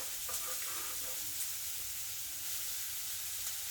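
Diced onion sizzles steadily in a hot pan for an omelette, a bright, continuous hiss close by with faint clinks and scrapes of stirring early on.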